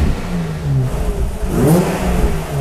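A Nissan 350Z Nismo fitted with a 380RS racing engine revs up close, its exhaust note rising and breaking into a raspy crackle as the revs climb, heard alone without talk.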